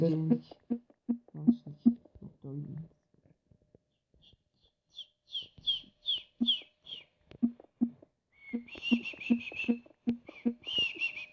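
Short bursts of whistling, several rising and falling notes in quick runs, alternate with a person talking close by.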